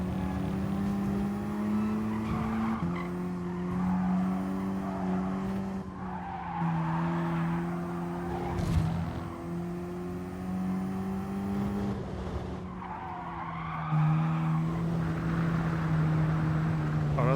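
Car from Gran Turismo Sport sliding across gravel, a steady engine drone with broad crunchy scraping that swells and fades in several passes, loud and continuous with no talk.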